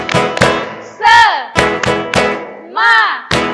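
Sunday school children at an HKBP church perform a spirit clap: loud, close rhythmic bursts of group clapping alternating with short shouted chants from the whole group.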